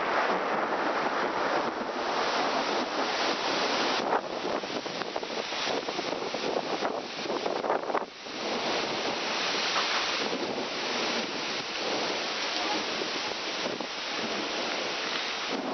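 Strong storm wind arriving on a September day roars in steady gusts, buffeting the microphone loudly for the whole stretch, with no voices.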